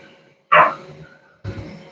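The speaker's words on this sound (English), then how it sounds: "my dog's gonna bark though." A dog barks twice indoors near a desk, each a short sharp woof with a pause between them, fairly loud and close, with no one speaking.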